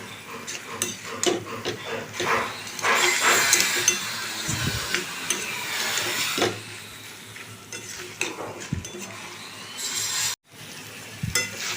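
Fried pumpkin seeds being stirred and fried with curry in a pan on a gas stove, with steady sizzling and repeated scraping and clinking of a spoon against the pan, close and alone.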